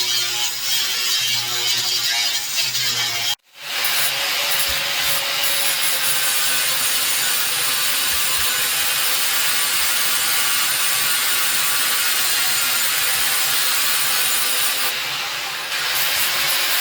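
Steel brackets being cut from 3/16 plate while making a crash bar and highway peg, giving a loud, steady, continuous grinding-cutting noise with one brief pause early on and no talking.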